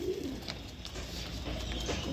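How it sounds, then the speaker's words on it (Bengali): A restless Madras pigeon coos in a loft, a soft low murmur over steady background noise with a few brief higher sounds. "অনেক ছটপটে অনেক ছটপটে পায়রা"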